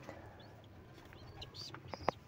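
Pigeons in a loft give soft low coos and brief calls against a dim background hum, with a faint flutter and a sharper call near the end.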